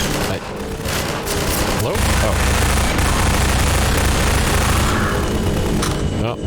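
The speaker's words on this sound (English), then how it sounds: "Oh, somebody's shooting." Rapid gunfire from the Half-Life 2 video game, sustained bursts and booms over about six seconds, loud and dense, with someone briefly speaking over it.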